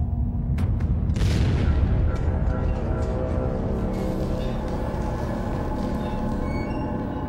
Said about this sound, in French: Ce bruit ne vous rappelle pas celui de l'explosion d'un transformateur?